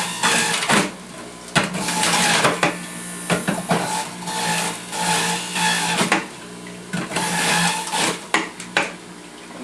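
A juicer grinding through lemons, loud bursts of whirring, crunching motor noise that surge and drop repeatedly as fruit is pushed in, close and without talk.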